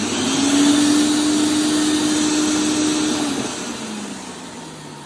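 A 1976 Vanguard Mini 175 vacuum cleaner hums steadily and loudly after being switched on, its motor tone holding for about three seconds before dropping and winding down quieter.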